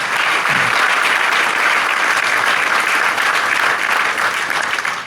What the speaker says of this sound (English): A round of applause for the mayor again.